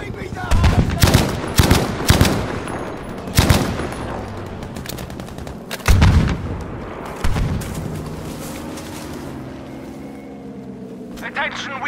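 Artillery fire in the Battlefield V video game, a series of loud, sharp booming blasts spaced a second or two apart, with rumbling battlefield noise between them.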